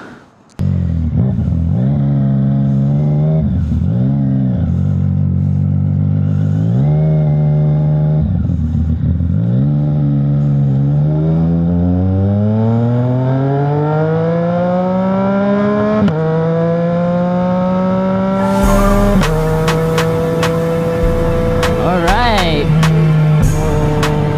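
A 675NK motorcycle engine runs loudly and close, revving up and shifting through gears repeatedly as it accelerates along the road, with wind noise late on.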